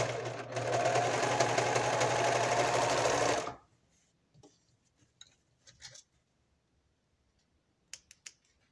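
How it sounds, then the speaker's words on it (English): Domestic sewing machine stitching heavy denim jeans fabric runs loud and steady for about three and a half seconds, then stops, leaving faint scattered clicks and handling noises. "This is jeans, heavy fabric, not so heavy, but the domestic machine doesn't want to go through many times."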